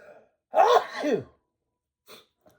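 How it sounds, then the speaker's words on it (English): A single close sneeze, sharp and voiced, followed by a couple of faint breaths. "I might sneeze again"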